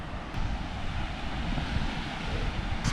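Steady wind buffets the microphone on a natural beach, a loud broadband roar with rumbling gusts and possible surf beneath, continuous with no talking.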